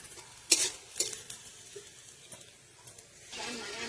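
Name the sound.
frying onion and chilli in pan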